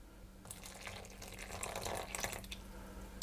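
Water poured from a measuring jug into a crumbly rough puff pastry dough mixture of flour and butter, producing a soft, steady trickling flow lasting about three seconds with no talking.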